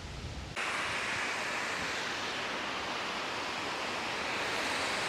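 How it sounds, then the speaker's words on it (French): The Sainte-Élisabeth waterfall gives off a steady, loud broadband rush of falling water that fills the whole clip, constant and unbroken, after a brief quieter moment at the very start. There is no talking. "C'est la cascade Sainte-Élisabeth."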